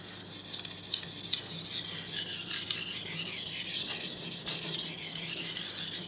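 A kitchen knife is drawn across a wet whetstone in repeated rasping strokes, a fine hiss-and-scrape rhythm heard close and fairly quiet, with no talking.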